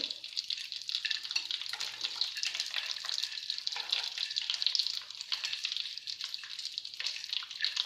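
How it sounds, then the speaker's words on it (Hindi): Mixed nuts fry in hot ghee for dry fruit energy balls, giving a soft, continuous, even sizzle at low volume throughout, with no voices. "घी गर्म हो चुका है तो इसके अंदर शामिल करते हैं बारी बारी तमाम नट्स।"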